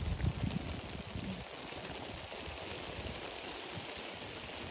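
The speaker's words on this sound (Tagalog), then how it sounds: "Ito yung gusto ko na ulan. Yung ulan na walang thunder, walang lightning" Gentle, steady rain with no thunder falling over a backyard garden, a soft continuous hiss with a few heavier patters at the start.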